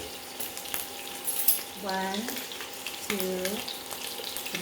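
Garlic cloves fry in a pan for a mussels curry, giving a soft, steady sizzle. Two brief tonal squeaks sit on top of it.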